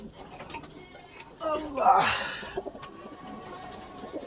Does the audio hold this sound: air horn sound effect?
no